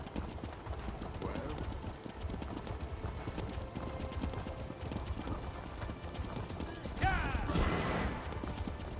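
A horse ridden at pace in the video game Elder Scrolls Online, hooves clip-clopping in a steady rhythm under game sounds and a talking voice.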